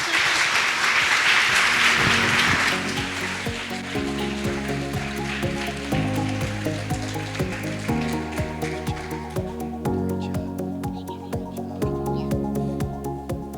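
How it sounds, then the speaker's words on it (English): An audience applauds after a panel session on sickle cell and cancer, a dense wash of clapping at first that thins out, with a steady musical backing continuing beneath and after it. "Let's give them another round of applause, please."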